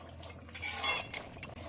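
Tengra fish drop into boiling curry with bitter gourd, potato and drumstick in a pot, making a brief hissing splash, followed by a few light clinks of a utensil against the rim.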